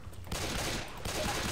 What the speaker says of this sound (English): I'm just shooting you.